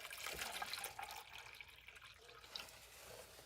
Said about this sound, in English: I'm going to put water in here